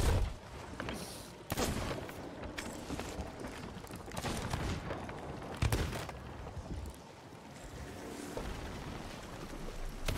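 Ship cannons firing during a video game battle at the Fort of the Damned: several loud, booming blasts in irregular succession, crowding together with rumbling between shots.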